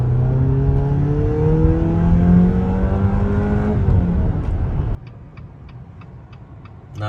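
The engine of a 2021 Jeep Compass Trailhawk revs up loudly through rising gear pulls on a public road. It drops abruptly to a quiet idle, and a turn-signal ticks steadily near the end.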